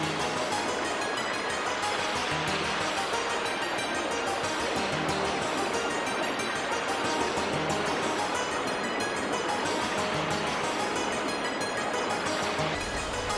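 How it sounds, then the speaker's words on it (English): Steady, dense rushing of water fills the whole clip, a continuous broadband wash with no talk, like a river flowing close by. "he heard the sweet sound of water"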